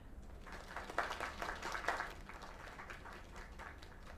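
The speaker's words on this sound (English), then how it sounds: "Another round of applause." Steady applause from an audience, a dense patter of clapping that swells briefly and then holds at a moderate, slightly distant level.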